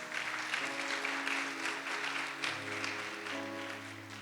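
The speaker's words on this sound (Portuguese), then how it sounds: "aplaude o Senhor Jesus." Church congregation applauding during a worship and missions congress service, a broad, moderately faint wash of clapping with sustained organ or keyboard tones underneath and no clear voices.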